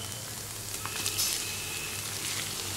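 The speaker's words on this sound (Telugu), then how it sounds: "టమాటోలను కూడా వేసుకొని ఒక 2 నిమిషాలు, అంటే టమాటాలో కాసింత పచ్చి వాసన పోయేటంత వరకు వేపుకోవాలి" Tomatoes sizzling as they fry in a pan with onions and green chillies, a steady close crackle and hiss with faint stirring scrapes.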